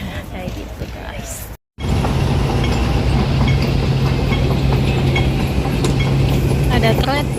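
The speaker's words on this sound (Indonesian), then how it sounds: "Ada kereta, sudah ada kereta ya." A train passes nearby in an Indonesian residential neighbourhood at night, a loud continuous rumble with clattering wheels that holds steady after a brief drop-out.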